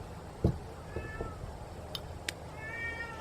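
A cat meows several times, its drawn-out cries rising and falling over a steady low hum of background noise.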